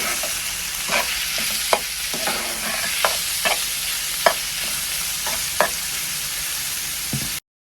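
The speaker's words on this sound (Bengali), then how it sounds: "মাংস দিয়ে খুব ভালোভাবে মিশিয়ে নেব।" Small chopped pieces of chicken stirred and fried in a pan, a constant bright sizzle punctuated by regular scraping strokes of a spoon, close and loud, cutting off abruptly at the end.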